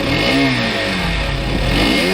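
A cartoon scooter's small engine revving and whining as it rides up, a loud, close buzzing drone with rising and falling pitch over its brief length.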